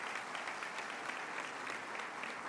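An audience at an international education congress breaks into sustained, dense applause, a steady wash of many hands clapping at close range throughout.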